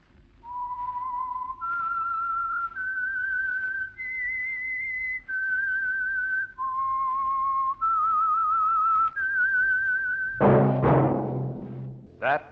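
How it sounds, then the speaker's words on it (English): A whistled theme tune for the Signal Oil radio mystery program The Whistler, a lone melodic whistle stepping through sustained notes over a faint music bed, then a burst of orchestral music near the end. "That whistle is your signal for the Signal Oil program, The Whistler."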